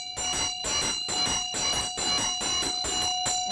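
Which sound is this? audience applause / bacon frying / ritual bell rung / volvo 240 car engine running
ritual bell rung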